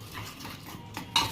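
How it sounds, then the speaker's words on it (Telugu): A spoon stirs oats and gram flour dosa batter with water in a bowl, soft scraping with a clear clink near the end, close and quiet. "కొంచెం వాటర్ వేసుకొని దోశ కన్సిస్టెన్సీలో కలుపుకోవాలి"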